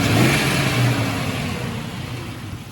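A 1993 Jeep Cherokee XJ base model with the 4.0 engine, manual transmission and about 152,000 miles runs close by, a steady engine hum with a slight rise in revs at first that then eases, with no talking.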